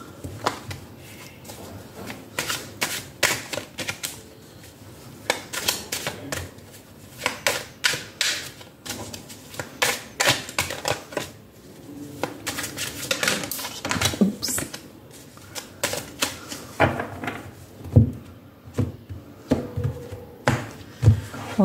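Tarot cards being shuffled, handled and laid out during a pick-a-pile reading, with repeated short crisp slaps and rustles in irregular bursts close to the listener, no talk.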